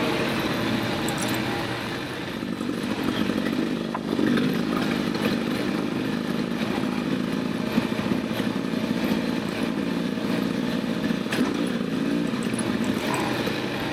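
A 2024 Beta 300 RR Race Edition two-stroke dirt bike being ridden, its engine buzzing continuously at high revs with raspy crackle and wind noise, close and steady without talk.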